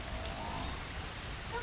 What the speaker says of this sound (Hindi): बारिश तो हो ही रही है दोस्तों